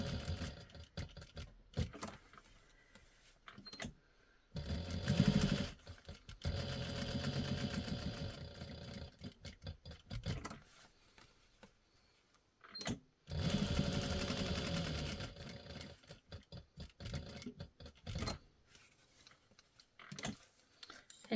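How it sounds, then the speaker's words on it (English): Sewing machine top stitching a fabric bowl cozy, with close, motor-driven bursts of rapid needle stitching that start and stop, separated by quiet pauses; no voices. "And I'm going to start top stitching."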